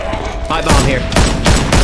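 A pipe bomb goes off in Left 4 Dead, a loud close blast in rapid repeated bursts that pound steadily through the whole moment, with a voice underneath.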